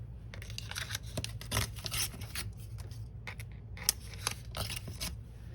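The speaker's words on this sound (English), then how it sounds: "we're gonna give this bottom part a tear to make it roughly the right size here" Paper for a grungy handmade journal is torn by hand, a quiet, close run of rasping rips and rustles with short pauses between pulls.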